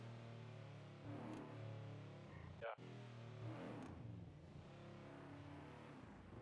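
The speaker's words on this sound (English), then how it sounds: "This car's loud." A steady video game car engine drones throughout, rising slightly in revs, with a brief glitchy break in the middle and a faint voice underneath.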